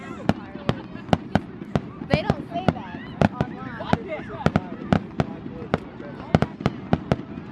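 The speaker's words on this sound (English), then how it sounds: "Fireworks!" Fireworks at a birthday bonfire night go off in a rapid series of sharp bangs and cracks, some distant and some louder, over crowd noise, with people talking and cheering nearby.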